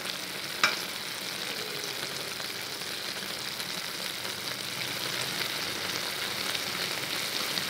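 Eggplant and minced pork stir-frying in a pan, a steady, close sizzle of hot oil with one sharp scrape of a utensil early on.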